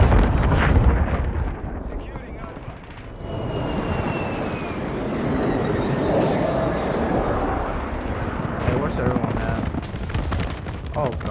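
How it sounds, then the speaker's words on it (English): Dense game-combat din from Modern Warfare II, with repeated explosions and gunfire rumbling through a continuous loud wash of noise, a jet-like whine passing overhead, and a player's voice talking over it. "Oh gosh, that's a lot of explosions."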